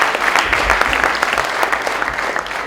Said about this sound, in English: Everyone give a big round of applause for Suresh.